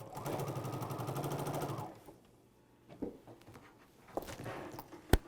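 A sewing machine runs a quarter-inch quilting seam in a fast, steady stitching whir for about two seconds. It then stops, leaving a few soft handling knocks and a sharp tap.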